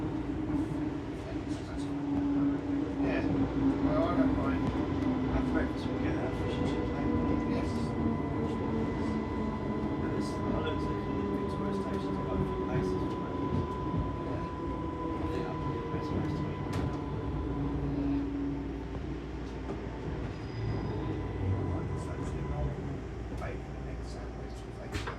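A Class 230 diesel train idles at Bletchley station with a low engine rumble and steady mechanical hum, with faint clanks and hiss throughout.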